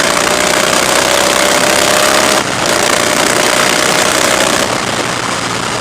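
A 2015 Harley Davidson Softail Breakout motorcycle engine under way on the road, a loud, continuous rumbling drone mixed with dense rushing noise, dipping briefly for a moment mid-ride.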